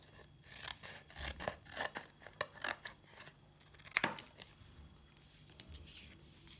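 Scissors snipping through a paper art kit piece, a series of close, quiet crisp cuts in an uneven rhythm with a sharper snip near the end, no voices.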